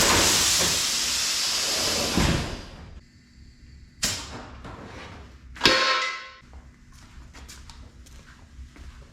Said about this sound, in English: let's see if this baby airs up front and rear. I'm gonna bring the compressor around.